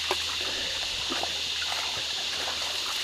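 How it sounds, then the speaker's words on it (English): A waterfall running lower than usual on a hot day, heard as a steady, close hiss of rushing water that stays even throughout with no talk. "you could see the waterfall. It's not flowing as much as last time."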